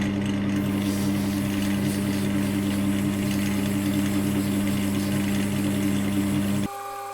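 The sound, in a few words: sanding a pen blank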